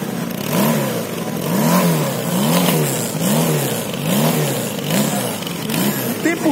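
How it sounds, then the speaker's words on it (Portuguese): A 1985 Honda CB450 Custom motorcycle engine runs close by, a steady low rumble that swells in pitch and falls back again roughly every second. "A gente o tempo todo a moto tava ligada"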